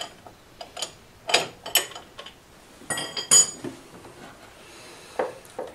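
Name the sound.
loosening a scooter spark plug with a 21 mm wrench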